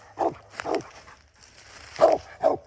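Hunting dog barking at an animal it has treed, four loud, well-spaced barks from fairly close, with quieter gaps between them.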